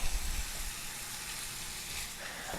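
Ground beef (80-20) browns in a pan with onions and garlic for taco meat, giving a steady, close, even sizzle and hiss with faint scraping from chopping and stirring, and no talking.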